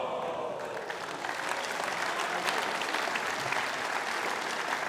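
A crowd at a squash match at the Manchester Open claps in a dense, sustained burst of applause, loud and close, with faint voices mixed in.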